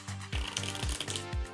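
Tarot deck being shuffled by hand, four quick riffling bursts in a steady rhythm, each a rapid papery flutter ending in a soft thump, close and clear with no talking.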